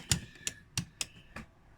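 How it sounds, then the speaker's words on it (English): Five sharp, separate button clicks land at an uneven pace, crisp and close, with nothing else around them. "buttons clicking"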